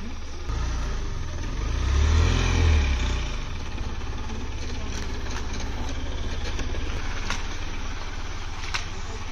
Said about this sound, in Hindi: तो अभी गाड़ी लगाना है रिवर्स घुमा के,